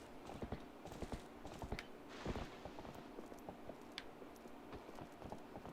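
Horse hooves clip-clop at a steady walking rhythm in The Legend of Zelda: Twilight Princess HD, quiet and fairly close, with no talking over them.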